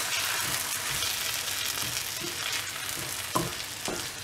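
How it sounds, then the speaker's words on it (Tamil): Prawns and chili powder fry in oil in a pan, a steady close sizzle with occasional stirring scrapes, no voices. "இதை வந்து நல்லா ஃப்ரை பண்ணி விடுங்க."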